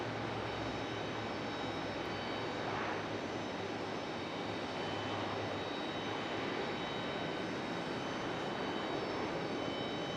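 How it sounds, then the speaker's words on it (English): A FedEx ATR turboprop airliner passes near Raleigh-Durham International Airport, its steady engine roar holding loud and broad throughout with no talking. "FedEx ATR, number 2 of 2"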